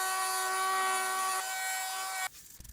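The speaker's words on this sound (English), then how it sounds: "I am fine sanding them up to 6000 grit, and then finishing off with extra fine steel wool and buffing them out at the end" Guitar frets being buffed with extra fine steel wool after fine sanding make a steady, close, droning whir for about two seconds, then it cuts off and a few light knocks follow.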